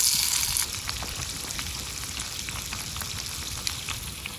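Food fries in hot oil inside an air fryer during car camping, a steady crackling sizzle with scattered pops, fairly faint and continuous with no talking.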